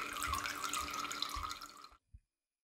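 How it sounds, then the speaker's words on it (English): Liquid filtrate rushing through a filter under hand-pressed piston pressure while purifying silicon dioxide from sand, a steady close hiss that stops abruptly, followed by one small drip-like tap. "And I am going to push with the piston to create some pressure. And as we can see, fast filtering."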